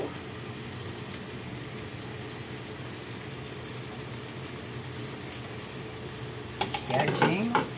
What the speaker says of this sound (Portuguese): Bom, vou colocar aqui o frango.